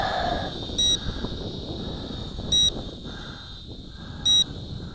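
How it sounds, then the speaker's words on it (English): An FQ777 918C camera drone gives three short, high electronic beeps, about two seconds apart, over steady wind noise and a constant whine. "Comes with a beep."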